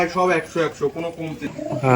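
Pigeons coo repeatedly in low, throaty rolling calls, close by at a pigeon seller's, with someone speaking over them.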